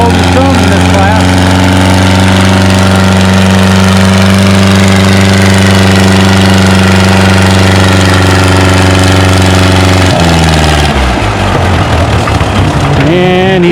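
Pulling tractor running a junkyard engine at a spring tractor pull near Othello, Washington, a loud steady droning engine note dragging the sled that drops and breaks into rough, lurching revs near the end, close to the microphone.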